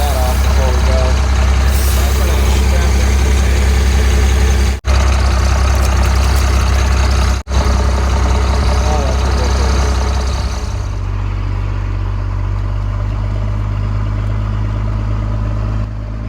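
An old, long-neglected Cummins diesel plow truck running on the road, a loud steady low rumble with constant road and wind noise, someone talking over it and two brief dropouts midway.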